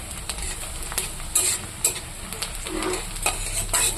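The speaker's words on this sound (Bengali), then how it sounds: "পেঁয়াজটা একটু লাল লাল করে ভাজবো।" Onions frying with bay leaves in hot oil until reddish, a continuous sizzle broken by repeated scraping stirs and light clinks of a spatula against the pan, close and alone.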